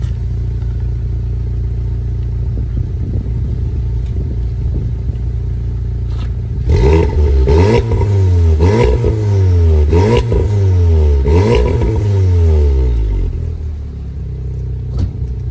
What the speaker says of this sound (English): Get the camera set up quickly just so we can do a little few revs of the car.